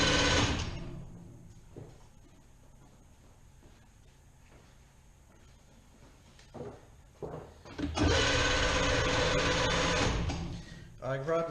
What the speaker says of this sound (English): I grabbed a small piece of fine wet sandpaper because it's the first thing that was lying around